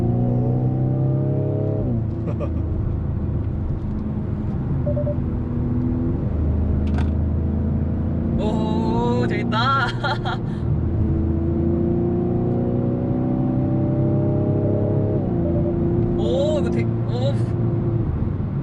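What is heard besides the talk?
car exhaust sound while accelerating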